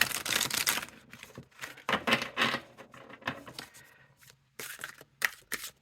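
Rapid riffling and flapping of a tarot card deck being shuffled up close, several bursts with brief pauses between them.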